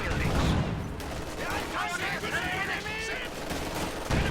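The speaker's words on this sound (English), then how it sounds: "Bunker going up, machine gun." Bursts of machine gun fire rattle through a World War II strategy video game battle, with rapid shots and distant booms layered under a commentator's voice.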